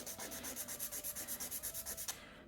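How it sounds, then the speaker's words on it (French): Rhythmic back-and-forth strokes of a nail file shaping the side of a gel C-curve nail tip, about a dozen quick even rasps at close range with no talking, ending in a slight scrape. "Donc je prends ma lime comme ça et je viens casser mon côté."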